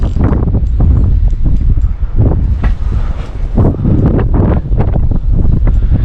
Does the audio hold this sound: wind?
yes